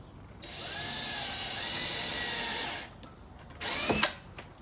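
A power drill whirs steadily for over two seconds, drilling holes while installing a storm window, stops, then gives a few short bursts with a rising whine as the drill dies; close by, nobody speaking.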